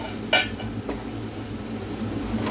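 Marinated fish pieces go into a hot pan and get stirred, a sharp clatter of a utensil against the metal near the start, then a softer scrape, over a steady low sizzle.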